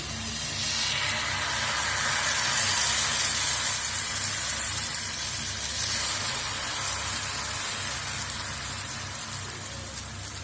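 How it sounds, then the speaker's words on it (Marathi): A steady, loud hissing sizzle fills the whole stretch, like masala amboli batter cooking on a hot tawa griddle, with no talking over it. "इथे मी आंबोळी घालून घेतली आहे तव्यामध्ये"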